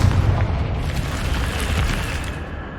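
A Confringo blasting spell goes off in Hogwarts Legacy, a dense, sustained low rumbling boom that rolls steadily for a few seconds with no voices over it.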